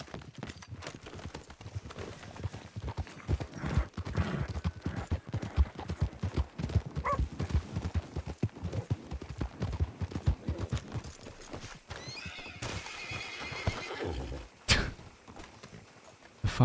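Horse hooves clip-clopping in a Wild West game, a steady run of close, dense clops lasting throughout, with a brief burst and a sharp bang near the end.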